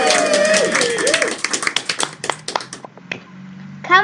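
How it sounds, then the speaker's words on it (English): Hand claps in a children's Scratch music-party project: a brief stretch of voice and melody, then a steady run of sharp, close claps that ends with a short final burst. "Please clap your hand."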